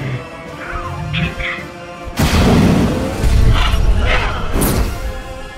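Firezilla fire spell attack in Wizard101: a sudden loud crashing boom about two seconds in, followed by rumbling, smashing impacts and game effects, with a voice briefly heard before it.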